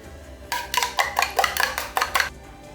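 Eggs beaten in a bowl with chopped onion, garlic, green chilli and coriander for an omelette, a quick run of close, rhythmic whisking clatters against the bowl.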